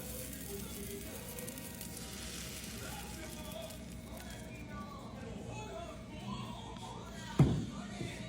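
Banana pancake batter sizzles in a frying pan with a faint, steady, low hiss throughout, close by, ending with a brief clatter.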